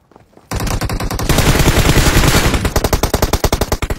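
Automatic gunfire in PUBG finishes off a downed enemy: after a brief quiet, a loud continuous burst of rapid shots erupts, then breaks into distinct separated rounds toward the end.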